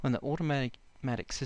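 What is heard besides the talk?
None of the usual background noises is heard.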